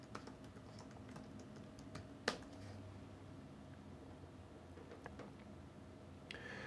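A computer keyboard is typed on softly and unevenly in bursts of light clicks, with one sharper key strike standing out, all faint against low room noise.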